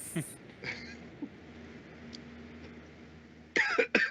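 A couple of short, rough coughs and a throat-clearing rasp, fairly close, between quiet stretches and brief speech.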